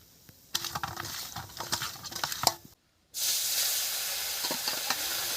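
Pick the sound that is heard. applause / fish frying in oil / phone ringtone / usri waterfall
fish frying in oil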